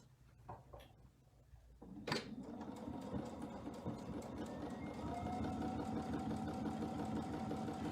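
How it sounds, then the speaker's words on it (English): A sewing machine stitches along a line, starting with a few clicks and a sharp knock before settling into a steady, close mechanical whir that grows slightly louder. "now I'm going to sew on this line again."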